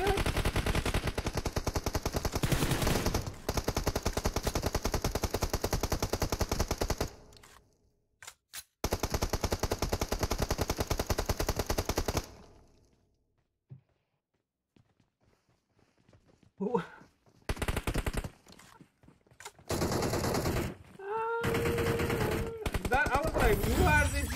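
Bursts of automatic gunfire in PUBG Mobile rattle in long loud stretches, then break off into quiet gaps and a few scattered shots, with people talking over the game.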